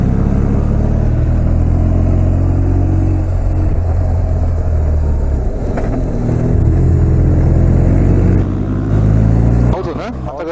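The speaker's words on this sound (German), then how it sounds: "Auto, ne? Habt ihr gehört, ne?" A car drives past on an alpine road during a motorcycle tour, its engine noise steady and fairly loud throughout, with people talking over it.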